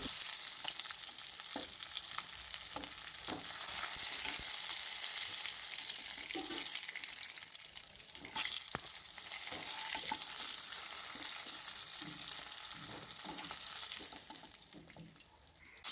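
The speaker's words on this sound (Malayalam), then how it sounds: "2 അയിലയും കൂടെ ഉണ്ടായിരുന്നു, അതും കൂടെ വറുത്തെടുത്തു" Mackerel (ayila) fish frying in a pan, a continuous close crackling sizzle with occasional clinks and scrapes of a utensil turning the pieces, fading slightly at the end.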